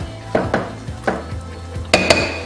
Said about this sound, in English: We're going to hand mix this together.